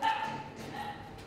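Rescued puppy giving a faint, brief bark or yip at a distance, muffled within background noise.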